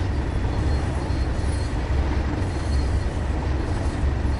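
A train in the Train Sim World 2 video game pulls out on the Tees Valley line, giving a steady, loud rumble of rolling wagons with faint wheel squeal, continuous and without talk.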